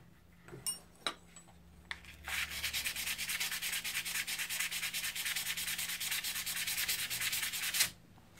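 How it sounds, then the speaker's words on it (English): Steady, brisk scratchy rubbing of 400 grit sandpaper on wooden molding plane irons, a few light clicks and taps before it starts, then continuous sanding strokes for several seconds. "Give them a light sanding."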